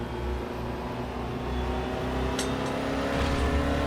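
Race car engine in the RaceRoom racing game droning at a steady high pitch, its tone rising slightly as it holds under load, loud and continuous with no talk.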